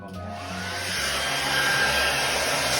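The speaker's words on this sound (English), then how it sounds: "I'm going to have to put the old hairdryer back on there" A hairdryer blowing on wet paint gives a steady loud whooshing roar with a motor whine, rising in strength over the first second and then holding constant; no talking.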